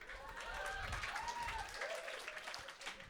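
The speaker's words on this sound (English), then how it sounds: "Not many women clapping that" A comedy club audience at The Blackout gives a scattered round of clapping, fairly steady for about three seconds, with some low rumble and voices mixed in beneath the hands.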